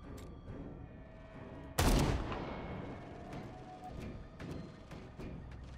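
Pistol fire in the video game Dead Rising 4, one loud sharp shot with a decaying tail, followed by fainter distant pops and thuds, with light game ambience throughout.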